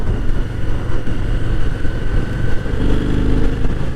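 A Harley-Davidson V-Rod motorcycle's V-twin engine revs loudly nearby, a deep, throbbing exhaust roar that swells and surges steadily throughout.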